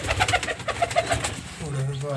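Pigeons in a loft coo in a quick run of soft pulses, with a low voice-like hum entering near the end.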